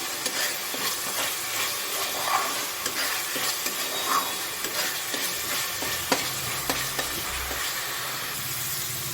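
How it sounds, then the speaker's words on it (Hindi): Steady sizzling and crackling of ginger, garlic and onion frying in a pan, with occasional scraping stirs, close and continuous with no voices. "तो देखिए अदरक, लहसुन और प्याज तीनों मेरा अच्छे से फ्राई हो गए"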